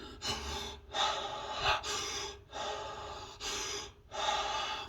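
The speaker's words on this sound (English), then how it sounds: "It's something as simple as 30 connected breaths, and it's a pace like this." Rapid connected breathwork pacing: about five deep, forceful breaths in quick succession, each a loud airy inhale-exhale close to the mic with short gaps between, no talking.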